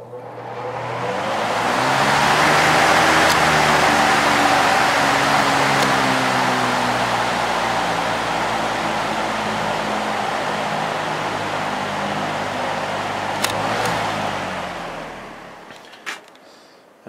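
A Lakewood HV-18 electric fan with an oil-ported motor runs on its high setting, giving a loud, steady whoosh of air over a low motor hum that holds for about sixteen seconds before cutting off abruptly.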